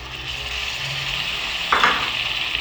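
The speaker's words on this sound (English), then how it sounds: "we're gonna put in our green capsicum at this particular point" Green capsicum strips stir-frying in a pot with beef, a steady close sizzle with a short burst of louder crackle and stirring noise near the end.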